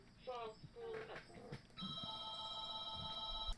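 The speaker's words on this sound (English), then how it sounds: "I apologize for the ringing of the phone." A telephone rings in a home office: a steady electronic ring starts partway through and holds to the end, fairly loud, following a stretch of talking.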